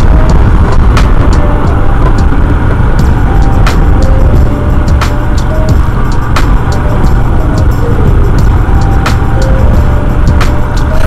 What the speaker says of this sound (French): on va le laisser passer lui parce qu'il a l'air d'être super pressé là, il fait du slalom pour essayer de me doubler.